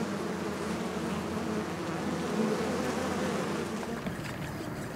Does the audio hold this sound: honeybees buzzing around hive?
yes